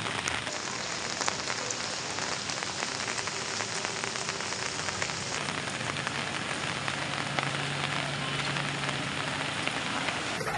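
Heavy monsoon rain in Madurai pouring steadily onto surfaces, a dense continuous hiss with scattered closer drops, loud and unbroken with no voices.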